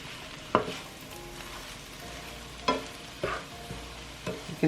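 Spinach cooking in oil in a pan for creamy Tuscan chicken: a soft continuous sizzle underlies several sharp scraping stirs of a utensil against the pan, spaced irregularly and heard close up.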